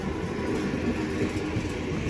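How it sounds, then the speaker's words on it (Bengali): A small train pulls into Ranaghat Junction station, a steady low rumble and rolling clatter filling the whole stretch at moderate loudness, with no voices. "तो ट्रेन आ गया"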